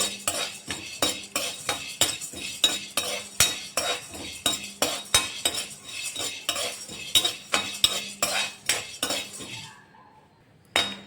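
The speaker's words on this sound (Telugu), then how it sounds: "అలాగే దీన్ని కూడా గోల్డెన్ కలర్ వచ్చేంత వరకు వేయించుకోవాలి." Chana dal dry-roasting in a pan for homemade rasam powder, a brisk rhythmic rattle of a metal spoon scraping and tossing the dal, close and loud, ending in near silence.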